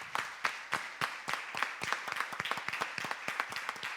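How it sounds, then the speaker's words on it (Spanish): Applause from an audience at a talk on justice and impunity, honoring a journalist named Amal; a burst of clapping with sharp, uneven claps that sound fairly close and moderately loud, without talk. "pues vaya nuestro aplauso para Amal"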